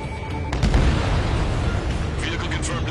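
A vehicle in a war video game blows up in a heavy booming explosion, followed by rumbling debris and scattered crackles that fade over a few seconds.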